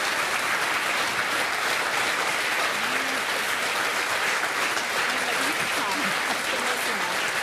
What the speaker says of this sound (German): Das ist also ein Applaus wert, oder?